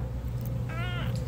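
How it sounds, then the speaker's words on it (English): A sassy house cat lets out a short, rising-and-falling meow near the end, heard close and clear over a steady low hum. "this is a very sassy cat"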